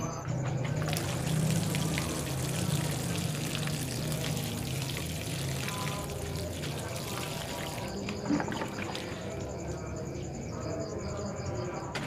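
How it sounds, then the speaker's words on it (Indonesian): Water is poured at the base of a potted plant, with a steady trickling, splashing stream running close by for the whole stretch, and a faint background hum beneath it. "kita siram di bawahnya"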